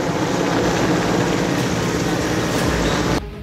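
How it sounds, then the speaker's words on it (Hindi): A helicopter roars overhead as commandos are dropped onto the roof of the Le Meridien hotel in Delhi during a security mock drill; the loud, steady rotor and engine drone holds constant, then cuts off sharply near the end. "दिल्ली के ली मेरिडियन होटल की छत पर हेलीकॉप्टर से कमांडो उतारे गए।"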